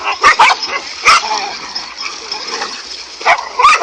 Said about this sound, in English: despite the cobra's valiant efforts, it was just no match for the dogs